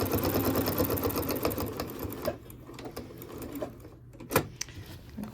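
A sewing machine stitches along a towel at a steady fast pace for about two seconds, then stops for a brief back stitch, with a few clicks and short bursts after it.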